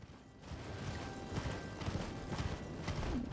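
Horse hooves clip-clopping in the Elden Ring video game, a steady run of soft, rhythmic hoof falls with faint creaking, quiet and continuous, heard alone.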